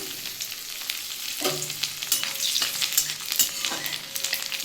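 Black cumin and chopped garlic crackle in hot oil as a tempering for fried radish greens. The sizzle is close and busy, with short bursts of spatula scraping at intervals.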